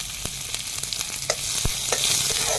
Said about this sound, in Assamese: পিঁয়াজ আৰু শুকান জলকীয়া দি লৈছোঁ।